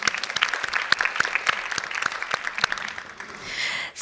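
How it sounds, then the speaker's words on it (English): Conference audience at a women-in-leadership justice forum bursting into applause, dense overlapping claps from a full room that carry on steadily for several seconds, then thin out at the end. "So I think that deserves a round of applause."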